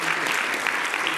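A conference audience claps for a student competition session, a brief burst of dense, even applause from many hands filling the room.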